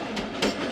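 The 130Dn Thal Express passenger train departs Dumel railway station, its wheels rattling over the rails with a steady rumble and two quick clacks close by.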